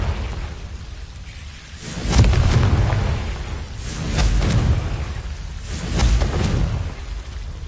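Confringo fire spells blast repeatedly in the video game Hogwarts Legacy, three deep rumbling explosions spaced a couple of seconds apart over a steady low ambient roar.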